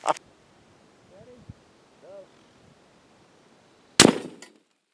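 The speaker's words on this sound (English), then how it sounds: "Well, now you're just shooting stuff to shoot stuff." A single sharp gunshot cracks into an empty cinder block outdoors and leaves a short rough tail, after a few quiet seconds that hold a faint earlier pop and distant tones.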